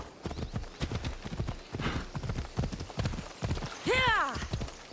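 Horse hooves beat a fast, rhythmic clip-clop at a gallop in Assassin's Creed Odyssey, steady and fairly quiet, with a loud whinny near the end.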